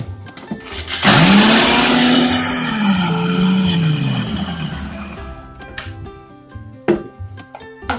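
An electric grinder whirs through roasted ingredients for sabudana appe, starting abruptly with a loud, high motor whine that sags and rises as the load shifts, then cuts off and leaves a few clinks.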